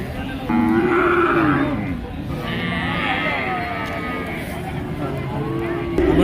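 Local breed and Sindhi calves with cattle at a big cow market call out in long, loud bellowing moos, several overlapping cries close by over a busy background murmur.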